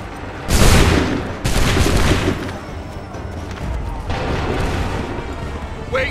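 Massed musket volleys in Assassin's Creed 3 gameplay: two heavy booming volleys ring out close together, then rolling gunfire and battle noise continue at lower level, with shouted orders over them.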